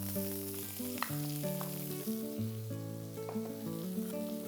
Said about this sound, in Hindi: इस तड़के में फिर डालूंगी मैं ये बारीक कटा हुआ प्याज